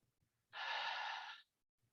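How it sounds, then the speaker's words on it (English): A single close breath lasting about a second during a calming breathing exercise, smooth and airy, alone against near silence. "let's take another deep breath in"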